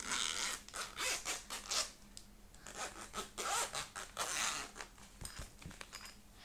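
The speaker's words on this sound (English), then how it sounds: "Next up, the zip." A clothing zipper being zipped and unzipped in repeated quick strokes, close and crisp, heard alone with no talking.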